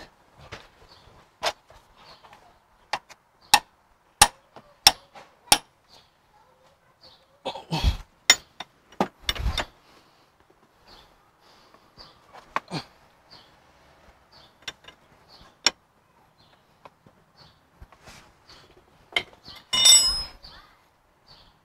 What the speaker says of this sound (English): Start by loosening up the 22mm jam nut on the outer tie rod end.